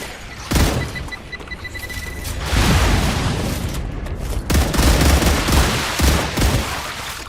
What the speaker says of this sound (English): Alright, throwing grenade.